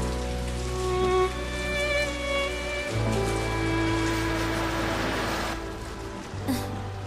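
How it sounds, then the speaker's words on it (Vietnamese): Steady rain patters and hisses continuously at night, a dense even wash of sound with a low droning hum and faint tonal background music running under it. "Trận mưa này còn dài"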